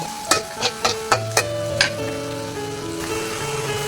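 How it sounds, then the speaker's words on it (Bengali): Bitter gourd fries in oil with green chilli and onion, giving a soft, steady sizzle. A quick run of utensil clacks against the pan comes early, then the sizzling carries on alone without talk. "এখন করলা ভাজিটা ভাজি করে নেব"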